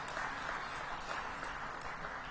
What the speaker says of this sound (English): let's, by the way, have a nice round of applause for Ben Olson, Ryan Nelson, Aleko Eskandarian